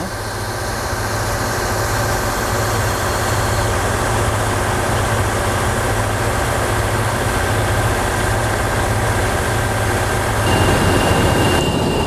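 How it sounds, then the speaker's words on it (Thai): A Kiha 183 air-conditioned diesel railcar rumbles into a station platform, a loud, steady engine drone with humming tones, swelling slightly near the end. "รถดีเซลรางคีฮะ 183 ซึ่งเป็นรถดีเซลราง ปรับอากาศ"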